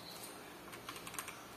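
Keys clatter on an MSI Vigor GK71 Sonic mechanical keyboard, a quiet, close run of quick clicks with a few louder strokes near the end and no voices.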